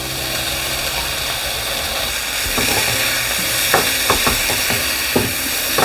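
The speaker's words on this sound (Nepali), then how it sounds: "अब यसैमा यो अघि फ्राई गरेको चिकन पनि मिक्स" Fried chicken is tossed with mixed vegetables in a hot wok for fried rice, giving continuous sizzling over a low hum, broken by several sharp scraping and stirring clacks in the second half.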